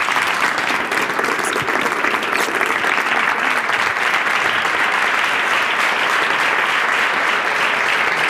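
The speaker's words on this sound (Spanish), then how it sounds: "quiero pedir para ti un fuerte aplauso." A hall audience gives a strong, sustained round of applause at an education talk, dense clapping holding steady and loud for several seconds without speech.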